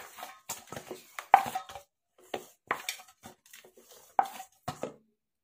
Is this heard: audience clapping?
no